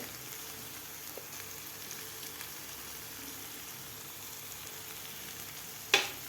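Paneer bhurji frying in a pan gives a steady, faint sizzle throughout, with a single sharp clink of the spoon against the pan near the end.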